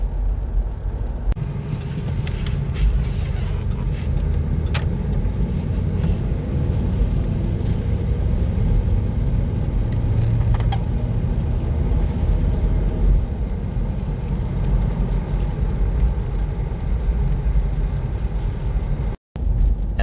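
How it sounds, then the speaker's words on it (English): A 1993 Buick Roadmaster wagon cruising along, its steady low engine and road rumble droning evenly throughout with a faint hiss of tires and wind, no talk over it. "the best part about driving this car is how it handles speed bumps."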